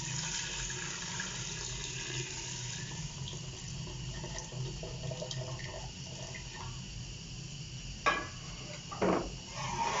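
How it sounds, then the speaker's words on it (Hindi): Water pours into a cooking pot for jaggery rice, a steady close splashing flow that runs for several seconds, then a couple of sharper splashes near the end. No one speaks. "जी तो अब हम इसमें पानी डालेंगे"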